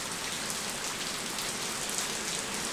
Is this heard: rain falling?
yes